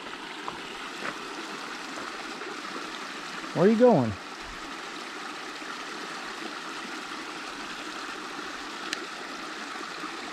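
Creek water running well after heavy rain along a hiking trail in Bartow County, north Georgia, a steady broadband rush close by, with a brief spoken voice cutting through near the middle.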